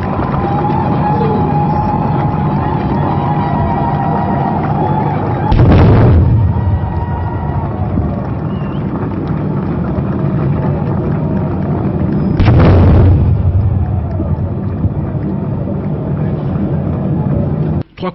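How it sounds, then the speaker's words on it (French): Two heavy ceremonial cannon booms several seconds apart ring out over a loud outdoor crowd murmur and rumbling background, in the Democratic Republic of the Congo. "Trois coups de canon retentissent à nouveau"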